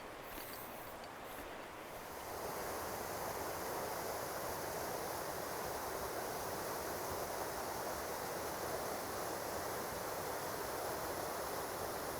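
Tabat Papi Falls, a waterfall along the North Country Trail, gives a steady, dense rush of falling water that swells fuller after about two seconds and then holds constant without a break.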